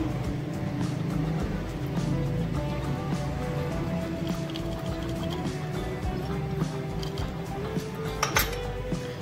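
Fruit chaat with honey, salt and squeezed lemon is mixed in a bowl, producing continuous soft clinking and scraping over a steady low background hum, with a couple of sharper clinks near the end.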